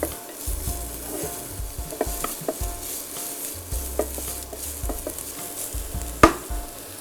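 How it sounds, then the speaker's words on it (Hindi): Chopped vegetables and onions sautéing in a pan, a soft sizzle broken by repeated scrapes and clicks of a utensil stirring, with one sharper knock near the end and no talking. "इसे थोड़ा सा हम सौटे करेंगे।"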